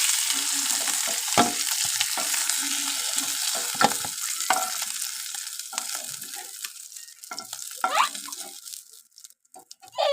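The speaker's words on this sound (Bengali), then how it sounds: "এবারে তেল দিয়ে দেবো মশলাগুলো ভেজে নেব" Ground spices frying in hot oil in a pan for a river fish, eggplant and potato chorchori, a loud steady sizzle with stirring clatter, scrapes and a few knocks, close by and without speech.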